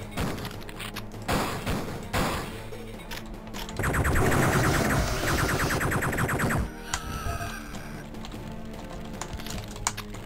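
Rapid gunfire blasting trash cans in the Duke Nukem 3D level Capitol Punishment, a dense burst of loud repeated shots lasting a few seconds, framed by scattered thuds and quieter game noise.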